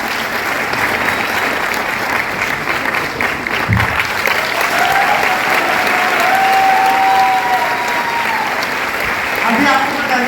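Seminar audience at a Vestige leadership event in Delhi breaking into loud, sustained applause from a large crowd, a dense steady roar of clapping lasting throughout with faint tonal sounds mixed in.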